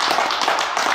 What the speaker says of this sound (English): Probably just a round of applause for everybody involved.